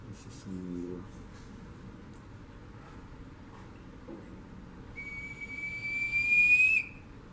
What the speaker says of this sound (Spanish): Esta es una botella silbadora del pueblo Huari Tiwanaco.